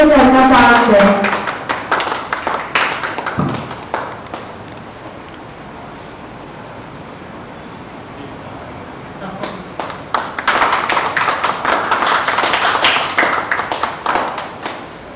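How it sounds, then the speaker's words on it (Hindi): An audience at a stage event applauds to welcome a guest, a loud burst of clapping at the start, a quieter stretch with a voice, then a second sustained round of applause. "तालियों से सर का स्वागत करें।"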